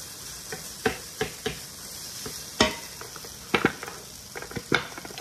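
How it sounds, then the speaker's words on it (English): Frozen vegetables cooking in a pan as a side dish, a soft steady sizzle broken by scattered sharp knocks and scrapes of stirring, close and fairly quiet, with no talking. "I'm just gonna do some frozen vegetables onto the side, keeping it simple. Those are cooking right now"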